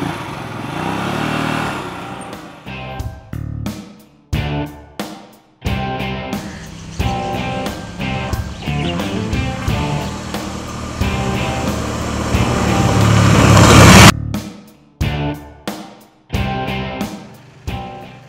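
DSK Hyosung Aquila 250 motorcycle riding on a road, its engine loud and close, revving and accelerating through gear changes with sharp drops between bursts and a strong build before cutting out.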